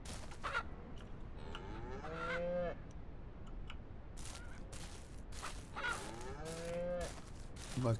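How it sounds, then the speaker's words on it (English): Cows in Ranch Simulator low in two long, drawn-out moos with some goose-like honking and other farm animal calls mixed in, heard faintly at a moderate distance. "My cows sound mad at me."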